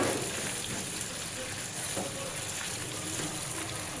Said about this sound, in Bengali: কলাটাকে উলট পালট করে নেড়ে চেড়ে ভেজে নেব।